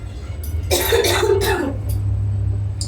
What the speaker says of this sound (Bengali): কাশিটা প্রচন্ড ভাবে হচ্ছে